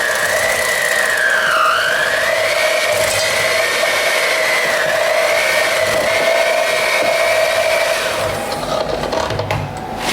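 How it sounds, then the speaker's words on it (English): An electric hand mixer whirs loudly and continuously through feta cheesecake batter with lemon juice, its motor pitch wavering up and down as it works, ending with a brief clatter near the close. "We're going to mix this until it's creamy and homogeneous."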